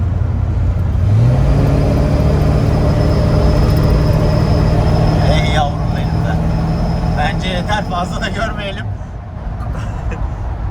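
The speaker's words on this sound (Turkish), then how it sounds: "Bir gaza bas da duyalım bari bir sesini." A 1962 Chevrolet C10 pickup with a 350 V8 idles loud and close, a deep steady engine rumble with a slight rise in revs, while people talk over it.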